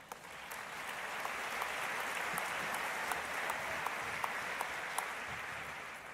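Audience applause at the 2019 Goldman Environmental Prize award ceremony, a steady wash of many hands clapping in a large hall, moderately loud and even throughout.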